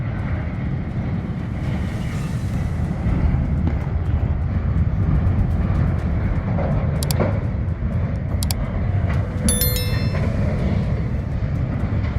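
A train rumbles along the tracks with a low, steady roar, with a few sharp metallic squeals and clanks partway through.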